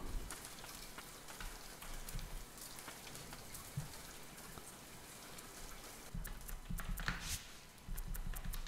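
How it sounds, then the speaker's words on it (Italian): Raindrops fall in the video game Ender Lilies: Quietus of the Knights, a soft, steady patter of rain with faint music underneath, quiet throughout. "Ci sono le gocce di pioggia"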